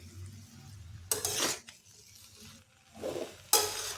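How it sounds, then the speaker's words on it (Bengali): Chopped coriander leaves being stirred into a cauliflower singara filling in a pan, with two bursts of scraping spoon strokes against the metal and quieter mixing between them, no voices. "ধনে পাতাটাও মিশিয়ে নিতে হবে।"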